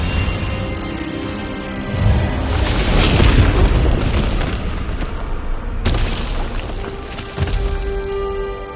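An Expelliarmus spell blast in the video game Hogwarts Legacy lands as a loud rumbling boom that swells and lingers, followed by a second sharp burst.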